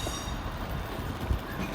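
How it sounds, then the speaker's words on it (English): A train heading for Peterborough rumbles into a station. Its steady rolling noise of wheels and carriages is moderately loud and continuous, and there is a brief heavier thump near the end. "Our train is now approaching"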